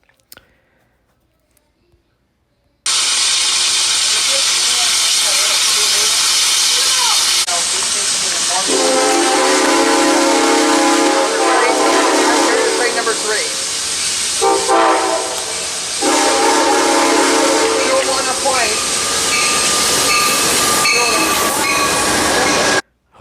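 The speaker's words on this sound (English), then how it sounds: "Just listening to 3751 blowing its whistle. And also Amtrak 3 sounding the horn." A Santa Fe 3751 steam locomotive whistle and an Amtrak train horn at a 2022 rail safety event, loud and sustained, entering after a few seconds of quiet as layered chords that break off briefly and resume.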